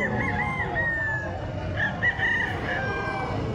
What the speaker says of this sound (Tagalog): Maraming pamimilian ng mga manok mga boss.